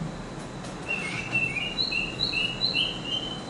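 A bird calling outdoors: a series of short, thin chirps repeating at a moderate distance over soft background ambience, with no talking.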